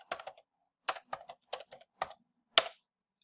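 Typing on a computer keyboard: clusters of crisp close key clicks in short irregular bursts with brief pauses between, ending on one sharper keystroke.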